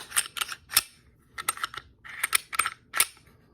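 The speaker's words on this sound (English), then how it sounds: "Dry fire." Glock handgun being dry fired after reassembly: a series of sharp, close mechanical clicks and snaps from the slide and trigger, in irregular clusters with brief pauses between them, no talking.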